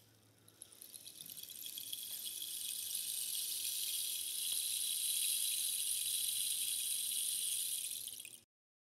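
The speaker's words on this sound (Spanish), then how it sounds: "tenemos un palo de lluvia o palo de agua y tiene semillas adentro con clavos" A homemade rain stick made of a cardboard tube filled with seeds and nails gives off a steady, bright rushing patter like falling rain, swelling in after a moment and holding evenly until it stops abruptly.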